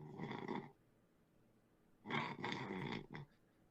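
Snoring heard quietly at a distance, two drawn-out rasping breaths, one short and one longer with a sputtering finish, separated by near silence.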